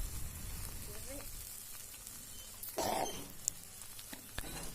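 Spiced mutton curry paste being fried in oil in a pan, a steady soft sizzle with brief louder stirring scrapes near the middle.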